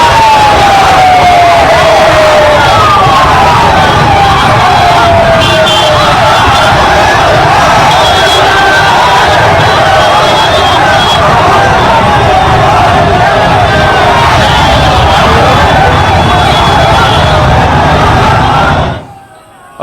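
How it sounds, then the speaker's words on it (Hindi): Huge roadside crowd gathered for a singer's last rites, a dense, continuous roar of shouting and cheering voices at full loudness throughout, cutting off abruptly at the end. "ये हुजूम जो आप देख रहे हैं, ये उनके अंतिम दर्शन के लिए भीड़ थी।"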